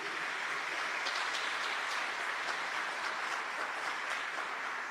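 A religious talk audience applauds, producing a dense, steady wash of many hands clapping at moderate distance that holds evenly throughout.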